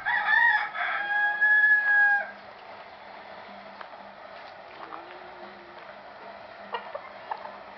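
A rooster crows once, loud and close, in a drawn-out call of about two seconds. Quiet background with a few faint ticks and small noises follows.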